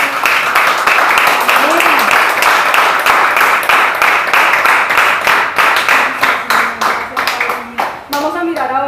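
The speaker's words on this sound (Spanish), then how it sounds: "le dan un aplauso al Señor en esta hora" A church congregation applauds during a Spanish-language service, vigorous rhythmic clapping that stays loud and close throughout, while voices call out over the hands and a speaking voice rises near the end.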